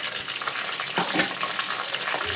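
Onions and green chillies frying in a pan, giving a continuous close sizzle with a few brief stirring bumps and no speech.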